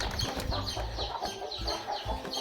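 Country chickens in a farm section cluck close by in quick, repeated bursts, several birds overlapping in a busy, continuous chatter.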